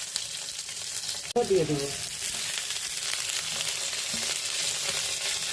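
Onions hit hot oil in a pan for noodles with a sudden crackle, then settle into a steady, loud sizzle that continues throughout. A brief spoken word sits over the frying.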